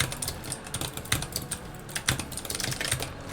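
Steady typing on a computer keyboard set up for gaming, a quick irregular patter of close, crisp key clicks with occasional louder strikes and no talk.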